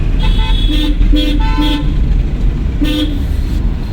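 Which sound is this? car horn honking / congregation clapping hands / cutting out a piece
car horn honking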